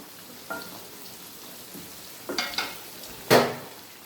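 Fish and sweet pumpkin frying in a pan while being stirred, a soft sizzle underneath with a few sharp scraping clatters of the spatula, the last one loudest, no talk.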